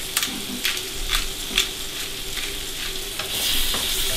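King scallops and leeks with ginger cook in a hot pan, giving a steady close sizzle with a few sharp stirring scrapes and a slight swell in intensity toward the end, with no voices.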